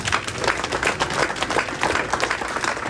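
A congregation applauding during a pastor's ordination ceremony in a church, dense sustained clapping from many hands for about three seconds, fairly loud and close.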